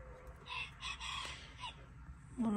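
Small caged quails call in a coop, a run of high, faint chirps and clucks close by, with a brief lower call at the end.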